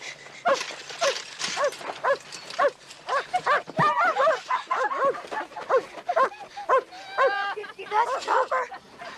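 Dog barking from the junkyard scene in the film Stand By Me, a run of repeated barks and yips mixed with shouting voices and clattering, loud and close throughout.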